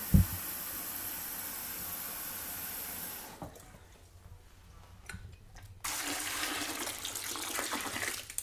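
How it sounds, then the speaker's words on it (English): Water is poured into a large jar of pickles, a steady rushing pour that stops briefly and then resumes, fairly quiet and with no talking. "So I'm probably going to put a half, or 3/4 maybe, more of water."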